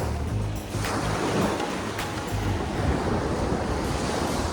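Ocean waves wash ashore at East Coast Park in Singapore, a steady close surf roar with gusts of wind buffeting the microphone and no one speaking.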